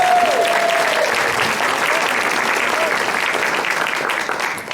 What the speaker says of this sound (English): if you all would join me in giving them all a round of applause.